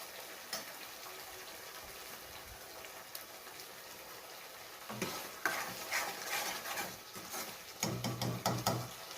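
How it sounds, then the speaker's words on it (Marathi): Masala being stirred and sautéed in oil in a pan while cooking a drumstick and potato curry, with a steady low sizzle and intermittent scraping stir strokes that grow busier in the second half, alone without talk. "तुम्ही बघितलं आहे मसाला किती छान पद्धतीने परतला गेला आहे"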